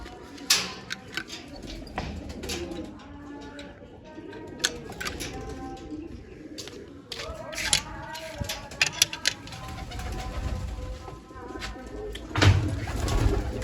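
Pigeons coo softly in a busy outdoor space, with intermittent clicks and chatter of other birds and people talking quietly in the background.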